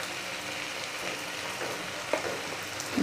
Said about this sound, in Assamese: ভালদৰে লৰাই দিছোঁ